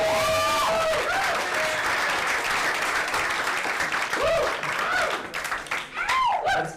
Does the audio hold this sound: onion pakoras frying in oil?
no